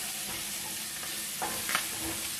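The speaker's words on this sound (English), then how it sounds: "Cook it down a little bit, my onions." Onions frying in a pan while being cooked down for a creamy salmon and spinach sauce, a soft steady sizzle with a few scraping stirs, close and quiet with no talking.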